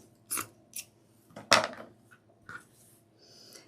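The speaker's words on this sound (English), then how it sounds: "I want to cut this little piece out here." Scissors snip through deco mesh for a snowman wreath on an evergreen base, making a few crisp, close cuts with one louder rasping slice in the middle and quiet pauses between.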